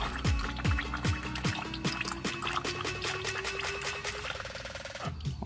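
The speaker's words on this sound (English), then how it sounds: "Oil's not working with me, so just let it drain out." Old motor oil drains from a car's oil pan in a continuous pouring, gurgling stream with rhythmic bubbling glugs, close and steady throughout.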